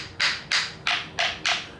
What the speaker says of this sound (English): These, by the way, are actual hammers.